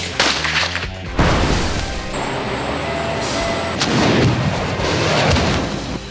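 Gunshots and explosions recorded outdoors for a heroes-and-villains sound effects library, loud booming blasts and sharp cracks overlapping in heavy bursts with long rumbling tails.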